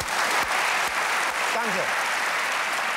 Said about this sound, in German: Experte. Beifall.